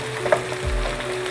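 Chopped tomatoes and green chilies hit a hot pan with a brief sizzle, a soft frying hiss rising after a quick clink as they go in, alone and close.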